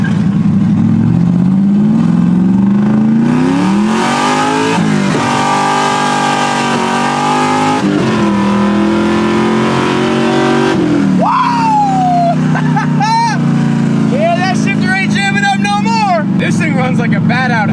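A Mopar car engine with boom tube exhaust revs hard in loud, rising and falling surges, with a person talking over the engine noise.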